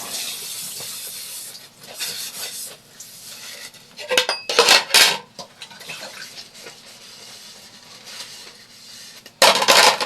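Dishes are washed in a kitchen sink, with plates, pots and cutlery clinking and clattering close by over running water, and louder bursts of clatter now and then.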